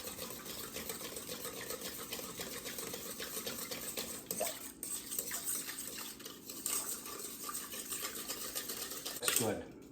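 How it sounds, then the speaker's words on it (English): Whisk stirring yeast into a melted butter and sugar mixture in a bowl, a quick continuous scraping and clicking rhythm against the bowl, fairly close and soft, with a few louder knocks. "We're just going to give this a good whisk up to get that yeast started, activated."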